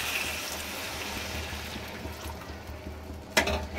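Water is poured into a simmering dum aloo gravy in a home kitchen, a soft continuous trickling and splashing for several seconds, ending with a brief sharper clatter near the end.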